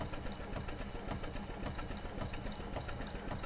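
An Allen 10-wheeler model locomotive runs on compressed air, giving a rapid, steady, even chuffing beat that continues without a break. It sounds close and moderately loud, with no voices.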